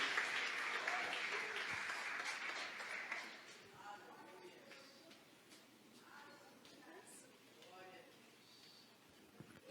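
A church congregation at a Sunday morning service applauds, the clapping loud for about three seconds and then fading, with a voice speaking over the quieter remainder.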